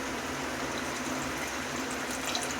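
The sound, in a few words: tamarind water poured into fish curry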